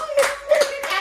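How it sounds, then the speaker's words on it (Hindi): Hands clap in a few quick bursts during a family celebration at home, close by, with a steady tone and voices in the background. "ताली"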